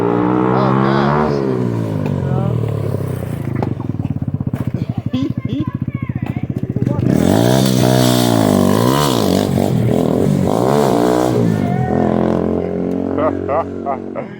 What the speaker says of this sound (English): Just out here having a little fun. Dang, spinning, doing donuts.